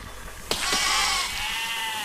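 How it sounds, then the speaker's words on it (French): Sheep bleating in the physics building game Besiege: a loud, drawn-out bleat cuts in abruptly and wavers for over a second, then fades into a steady background hum. "Ces saletés de moutons ne m'aident pas."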